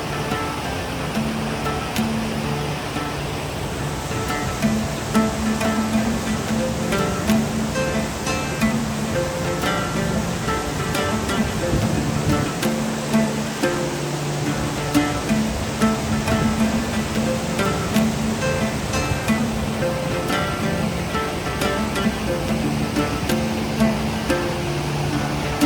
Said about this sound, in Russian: Мы дошли до какого-то водопада, но, оказывается, это все-таки не наш водопад.